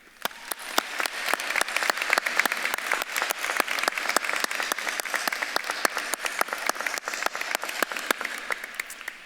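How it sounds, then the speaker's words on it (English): Steady, dense applause from a large audience at a university school of social work commencement ceremony, continuous and fairly loud throughout with many sharp individual claps. "please join me in a round of applause for the VCU social work"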